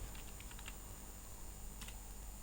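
Computer keyboard typing while fees are entered into a spreadsheet: a few soft, scattered key taps in two short clusters, faint under a steady hiss of room noise.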